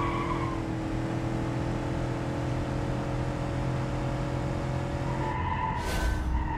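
An old Volkswagen Beetle in the BeamNG.Drive racing game skids, its engine droning steadily with a long continuous tire screech that rises sharply near the end, loud and uninterrupted.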